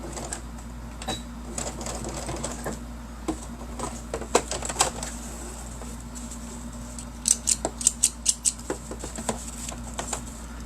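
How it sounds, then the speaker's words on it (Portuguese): Scissors trim excess thread from a freshly sewn seam on a fabric bookmark and pen holder, giving a run of quick, close, crisp snips over faint room noise. "Vou cortar aqui os excessos de linha para não dar uma poluição visual"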